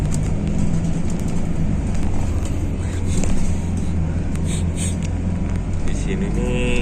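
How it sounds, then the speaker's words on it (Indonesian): Steady low rumble of a moving bus heard from inside the cabin in Dubai, with constant engine and road drone throughout while a person talks nearby. "Ini gua lagi di bis."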